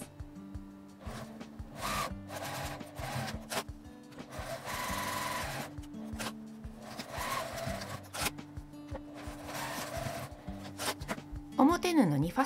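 A sewing machine stitches thin fabric for a zippered medicine-notebook pouch, running in repeated short bursts separated by brief pauses, with a steady tonal hum underneath.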